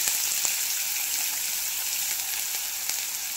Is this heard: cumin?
yes